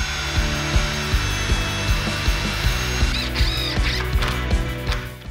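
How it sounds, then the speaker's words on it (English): Power drill pre-drilling screw holes in pine boards for an outdoor patio chair, a steady loud whirring drive with rhythmic ticking pulses throughout, close up and with no talk. "I'm gonna pre-drill all these holes"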